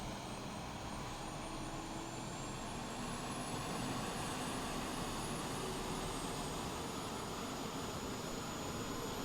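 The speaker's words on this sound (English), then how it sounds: "That's the APU rocking and rolling." An Airbus A330-900neo's auxiliary power unit runs as a steady, unbroken broadband roar with a faint high whine, constant in level throughout.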